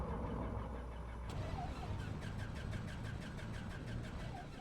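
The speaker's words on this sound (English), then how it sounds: "We got the one engine running there." Cessna 404 Titan piston engine starting in Microsoft Flight Simulator 2024: a low engine rumble with a starter's rapid rhythmic clicking beginning after a second and repeating steadily, fairly faint, with no voices.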